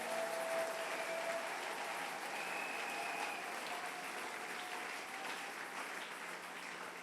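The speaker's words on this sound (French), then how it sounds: "Est-ce que tu peux acclamer très fort pour le roi de gloire?" A church congregation applauds loudly during a Sunday worship service, the dense clapping holding steady for the full seven seconds with some faint cheering mixed in and no talking.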